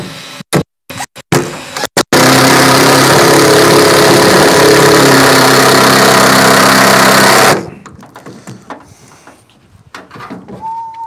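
Engine cranked up while building pickup truck sideboards for a Halloween hayride, starting after a few sharp knocks, then roaring loudly and steadily for about five seconds before cutting off into quiet room noise.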